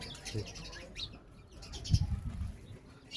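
Sparrows chirping and tweeting in short bursts near their nest, with some low rustling and clucking-like noises underneath.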